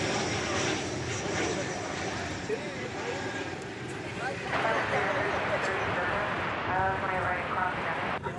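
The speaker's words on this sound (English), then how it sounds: "It's an Embraer 175LR." An American Eagle Embraer 175LR jet at DFW Airport, a broad sustained engine roar that shifts in pitch as the plane passes, heard from a distance over steady background noise.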